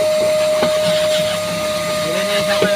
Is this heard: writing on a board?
no